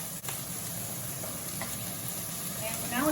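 Scallops sizzle in a pan over high heat, a continuous bright frying hiss that stays close and fairly loud throughout, with a slight clatter near the end.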